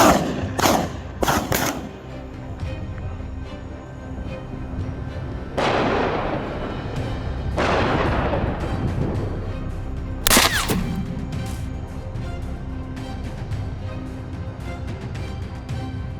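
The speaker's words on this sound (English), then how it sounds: "Gunshots echo relentlessly, marking the moments when their targets are brought down." Gunshots crack out on a mountainside during a wild boar hunt near a residential area, several sharp reports early on followed by louder blasts whose long echoes roll away, leaving a rumbling background.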